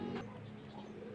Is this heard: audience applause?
no